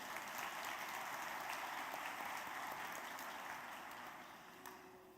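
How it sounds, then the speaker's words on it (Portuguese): A church congregation bursts into sustained applause, a broad, even rush of many hands clapping at moderate distance that holds steady before gradually fading. "glorifique a Deus com a salva de palmas"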